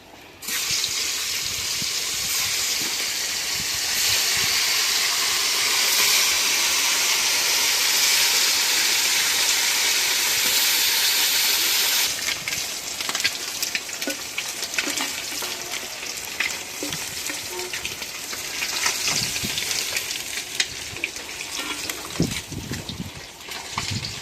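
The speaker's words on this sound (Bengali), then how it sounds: "মাছগুলি ভালো করে ভাজে নিতেছি।" Fish frying in a pan gives a loud, steady, dense sizzle that holds for about half the time, then thins into a rougher crackle with scattered pops and spits. No one speaks.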